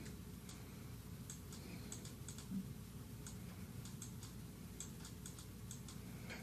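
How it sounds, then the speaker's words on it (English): A computer mouse button is clicked repeatedly while painting a texture onto a character in 3ds Max, giving soft, quick, irregular ticks over a steady low hum with no voice. "I'm just using my mouse, clicking my left mouse button when I want to paint."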